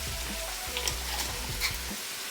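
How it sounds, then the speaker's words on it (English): Ground beef frying in a pan, a steady low sizzle with soft scraping and stirring knocks running through the short stretch, close and without talk. "So our ground beef is cooking."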